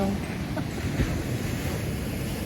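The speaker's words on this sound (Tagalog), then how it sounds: "Look at the waves. Lumaki ang mga alon today." Larger-than-usual ocean waves on the Bohol coast, a steady wash of surf mixed with wind buffeting the microphone, fairly faint and continuous.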